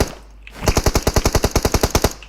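Rapid automatic gunfire in PUBG Mobile, a close, loud burst of about fifteen evenly spaced shots lasting under two seconds, alone without speech.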